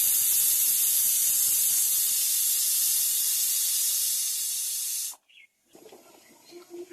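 Whole cumin, dried chili and bay leaf hit hot oil with a loud, close, hissing sizzle that holds steady for about five seconds, then cuts off abruptly, leaving faint clatter.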